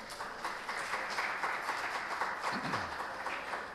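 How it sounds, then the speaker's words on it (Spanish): A conference audience applauds to welcome a speaker, a sustained and fairly even rush of many hands clapping at moderate volume without any voices. "lo recibimos con un gran aplauso"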